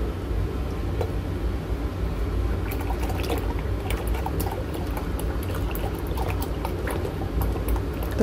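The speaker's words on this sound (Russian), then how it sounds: "наливаем молоко" A steady stream of milk pours into a pot, a continuous gurgling wash that stays even throughout with no voices.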